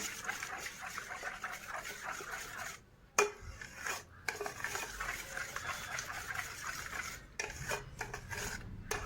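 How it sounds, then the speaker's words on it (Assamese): Cream is stirred into cold custard for a lachcha dessert, giving a continuous soft scraping and rubbing of a spoon against a bowl, with a few brief pauses and knocks, close and fairly quiet. "ক্ৰীম মিলাই ভালকৈ লৰাইছোঁ"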